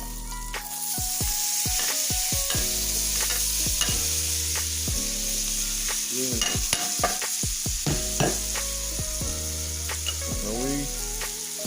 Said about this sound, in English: Alright, we got that butter melted. I'm going in with these vegetables.